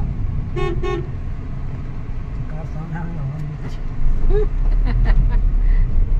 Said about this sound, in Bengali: কার সামনে হর্ন দিচ্ছে